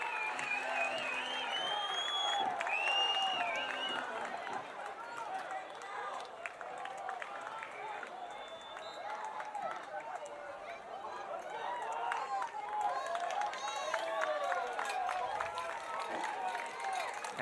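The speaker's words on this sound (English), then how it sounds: "in the 48th minute, we are level and this crowd is alive" Soccer crowd at a Sarasota Paradise versus Fort Lauderdale United FC match roaring after an equalizing goal early in the second half, a sustained loud wash of cheering, whistles and applause throughout.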